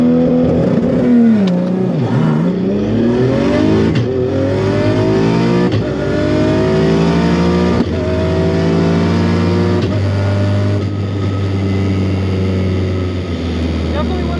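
Barra-swapped Ford GT350 on a drag strip pass, engine roaring loud and close as it climbs steadily through several gears with a shift near the start and a brief cut near the top end.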